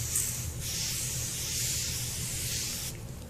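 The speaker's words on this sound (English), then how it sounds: "I spray with a matte setting spray" Matte makeup setting spray hisses from a bottle in a few close, steady bursts with brief gaps between them, and no talking over it.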